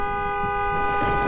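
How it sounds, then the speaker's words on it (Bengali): A car horn in a Bengali comedy cartoon gives a loud, sustained honk that holds one steady tone for over a second, with a low rumble underneath. "এটা গাড়ির আওয়াজ ছিল না?"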